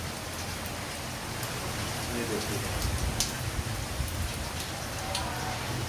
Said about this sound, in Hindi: सुबह का टाइम है और बहुत ज़बरदस्त किस्म की बारिश हो रही है